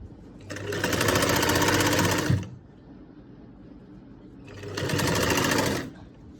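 Two bursts of a sewing machine stitching down a folded neck facing on a garment, loud and close, each run lasting a couple of seconds with a quiet pause between.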